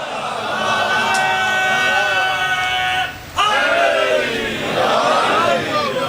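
A large crowd chants religious slogans in unison, many voices rising and falling together, loud and close with a brief dip in the middle before the chanting surges back.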